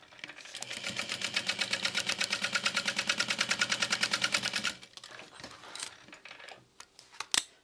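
A sewing machine top stitching a bag runs in a fast steady rhythmic chatter for several seconds, then stops, leaving a few light clicks and handling sounds.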